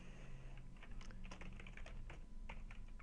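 Light clicking of computer keyboard keys during data entry in a CRM form, an irregular run of close, quiet taps with steady low background hum and no voices.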